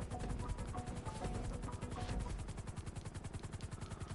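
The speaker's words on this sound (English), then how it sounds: "Oh, we're jumping out of this chopper." A helicopter in the video game GTA 5 beats loudly and close, its rapid regular rotor thumps pulsing steadily throughout, growing more distinct toward the end.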